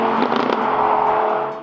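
Lamborghini Huracan V10 supercar driving past, its engine loud and close with a steady rising roar and a brief revving burst near the start before fading at the end.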